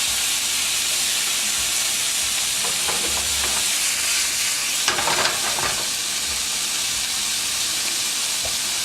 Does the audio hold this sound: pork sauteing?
yes